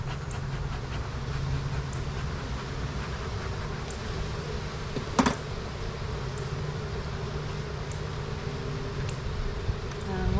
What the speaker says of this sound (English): These are nurse bees,